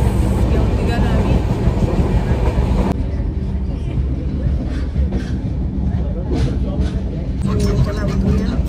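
Passenger train rolling into Thivim station on the Mumbai to Goa route, a steady rumbling rail noise with a brief drop in level partway through, people talking on board.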